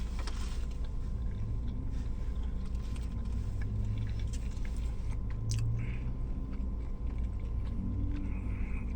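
Someone chews a Jack in the Box fish sandwich in a chewy wrap close to the mic, soft wet mastication and occasional crunchy bites over a low rumbling background, with no talking.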